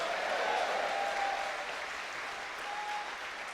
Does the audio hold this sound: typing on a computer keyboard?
no